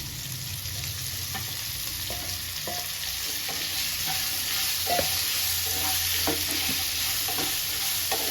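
Okra added to softened tomatoes in a frying pan, a steady sizzle under repeated scraping stirs of a spatula, close and continuous without speech.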